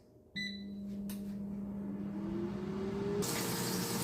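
An air fryer started on cake mode at 160 degrees to bake chocolate-filled milk buns: a few short electronic beeps, then a steady whirring fan hum that swells into a louder rush of airflow near the end.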